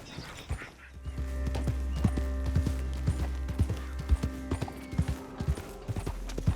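Horse hooves clip-clop at a steady walking rhythm in the Red Dead Redemption 2 video game, close and distinct over a low ambient hum and tonal music.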